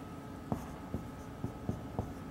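Close, dry taps and short strokes of a marker or chalk on a board while a derivation-tree diagram is drawn during a formal-language-theory lesson, about five distinct marks spaced unevenly over a low steady hum.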